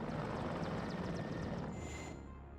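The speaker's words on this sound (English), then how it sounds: "Mi-24V rocket attack coming in here again." A Mi-24V attack helicopter in the WARNO war game makes a steady rotor and engine roar during a rocket run, loud and close before fading slightly toward the end.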